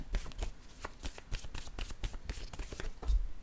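Tarot cards are shuffled by hand in quick, crisp bursts of riffling and slapping, a dense run of papery flicks heard up close with no voices.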